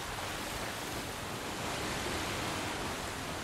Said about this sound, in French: la pluie ils ont abusé là